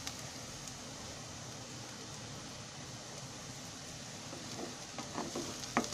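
Okra sabzi sizzling in a pan with a steady soft frying hiss throughout, joined by occasional scraping stirs and small crackles near the end, with no talking.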